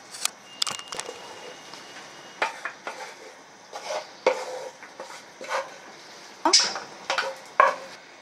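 Carrots and onions tumble and scrape in a pot as they are stirred into fish broth, with clinks of a utensil against metal and soft simmering underneath.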